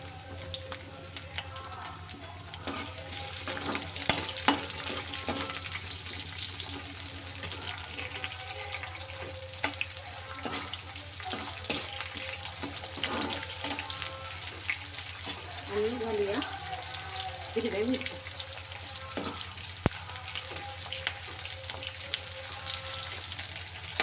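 Onion frying in a pan with red chilies and curry leaves for a raw banana sambar, giving a steady soft sizzle throughout with occasional stirring clinks and faint background voices.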